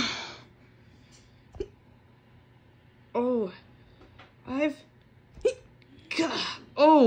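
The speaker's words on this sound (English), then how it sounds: "I've just got the hiccups at the moment." Short hiccup sounds from a cartoon character with several abrupt vocal bursts spaced across a quiet background, alongside voiced syllables.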